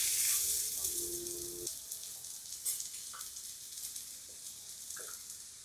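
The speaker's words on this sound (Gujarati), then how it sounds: "મીડિયમ ફ્લેમ પર આપણે ફ્રાય કરવાનું છે પરોઠાને" A mixed vegetable paratha fries in oil in a pan over a medium flame, making a close, steady sizzle and hiss that is loudest at first and then eases a little, with light clinks of a utensil and no voices.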